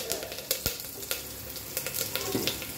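Curry leaves frying in hot oil with mustard seeds, cumin and asafoetida, giving a steady crackling sizzle with frequent sharp pops, close and moderately loud.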